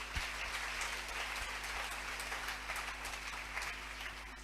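Steady applause from a church congregation fills the space throughout, a dense, continuous clapping texture with no voices over it.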